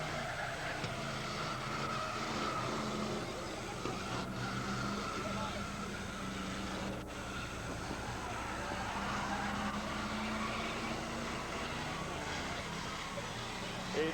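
Stock cars race at the Laval autodrome in the 1980s, a constant, distant drone of engines circling the track, heard faintly with a commentator talking over it throughout.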